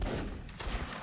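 Massed musket gunfire rolls in a line battle video game, a dense near-continuous crackle of overlapping shots, loud and close, lasting about a second.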